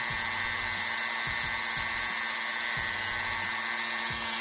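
A power tool sands an action figure's ankle part flat, a steady high whine running close and loud throughout with repeated short low thumps as the piece is pressed against it.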